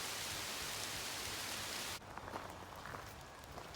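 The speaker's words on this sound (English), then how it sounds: "Listen to that rain." Steady heavy rain pours down on woodland during a passing storm for a couple of seconds, then softens into lighter, closer patter with scattered distinct drops.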